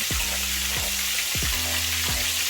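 Frog legs frying in hot oil in a pan give a steady loud sizzle, broken by a few low thumps and clinks as utensils move and turn the pieces.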